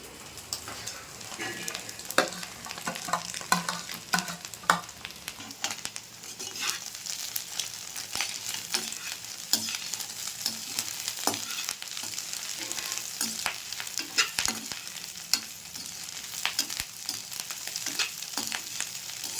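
Chicken and rice are stir-fried together for chicken fried rice, a continuous crackling sizzle punctuated by frequent sharp spatula scrapes and taps against the pan throughout.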